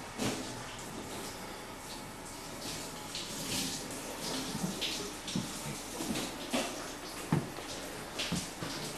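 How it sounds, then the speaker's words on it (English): Steady broadband water spray of a shower running in a Japanese-style house, heard from a room away, with occasional knocks and clatters over the continuous hiss. "Joel is in the shower."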